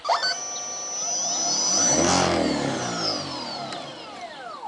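A brushless electric vehicle prototype with lithium polymer batteries and about 8 horsepower runs close by, its whine and motor tones sweeping up and then down as it passes. No one speaks.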